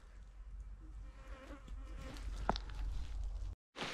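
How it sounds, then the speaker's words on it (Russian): Mosquitoes whine and buzz continuously in a forest during mushroom picking. The thin, persistent drone sounds near, with one louder pass close to the ear, over a quiet woodland background. "Комары одолели."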